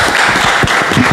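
An audience at a Hindi poetry gathering (kavi sammelan) claps in a brief, dense burst of applause that is close and loud, with no voices over it.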